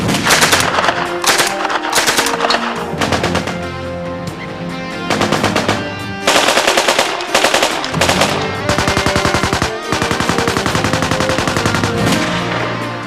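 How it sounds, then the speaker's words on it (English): Loud, rapid bursts of machine-gun fire rattle continuously, with brief pauses between long volleys. "The machine gun."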